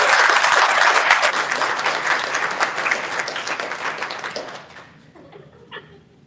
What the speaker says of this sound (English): Jess deserves perhaps the biggest round of applause